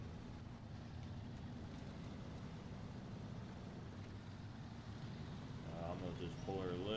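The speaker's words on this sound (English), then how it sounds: "Turn on the engine of that truck," A truck engine runs in the video game SnowRunner, a steady low rumbling drone throughout, with a voice briefly heard near the end.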